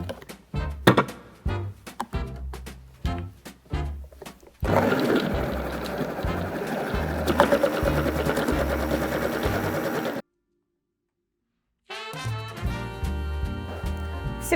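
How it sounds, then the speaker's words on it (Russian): An electric food processor grates raw beetroot, its motor whirring loudly and steadily for several seconds after some clattering handling, then stopping briefly before more knocks and rattles. "А вот натирать за меня будет комбайн."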